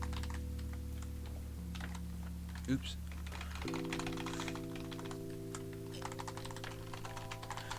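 Quick bursts of typing on a computer keyboard, light irregular clicks over a low steady hum, with a brief spoken word partway through.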